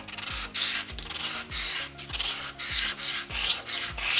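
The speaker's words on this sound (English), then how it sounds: "I just got the 60 grit sanding" Coarse 60 grit sandpaper rubs in long, rhythmic strokes across a wooden knife handle, each pass a loud close rasp with a brief pause between, about eight strokes, with no voices.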